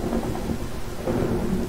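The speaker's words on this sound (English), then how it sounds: "Lightning just struck right beside me." Thunder from a lightning strike in the video game Minecraft, a deep continuous rumble with rain-like noise throughout, loud and close, without any talking.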